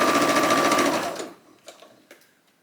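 A sewing machine topstitches the armhole of a Sew Over It Penny dress, running loud and steady with a rapid rhythmic needle clatter for over a second, then stopping, followed by a few faint handling clicks.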